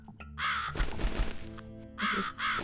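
Harsh bird caws in The Cat Lady video game, two loud raspy calls bracketing a short stretch of thumping game sounds, close and prominent.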